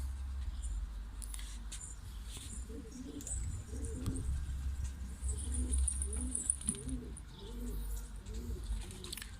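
Şanlıurfa filo pigeons coo in repeated soft, throaty rolling phrases, close by over a low rumbling background hum, with faint chirps higher up.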